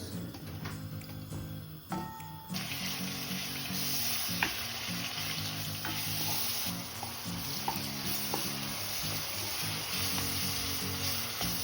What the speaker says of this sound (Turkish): Kavrulana kadar karıştırıyoruz.